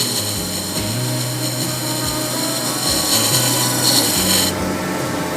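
A woodturning tool shears against a spinning glue block, cutting a small bevel: a steady close scraping rasp with light pulsing, ending abruptly.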